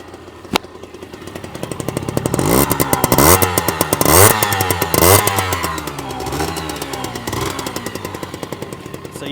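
A Honda Raccoon 50cc motorcycle is kick-started with a sharp thump, then its small two-stroke-style engine buzzes close up, revving up and down repeatedly in rising and falling bursts before settling to a rapid idle.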